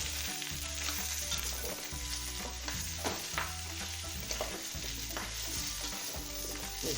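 Vegetables for a simplified cabbage soup sizzle steadily in a hot pan as they brown, with repeated stirring scrapes and clatters over a continuous frying hiss.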